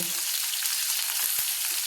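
Steady, loud hissing sizzle of two tilapia fish frying in hot oil in a wok, continuous and close, with no voices.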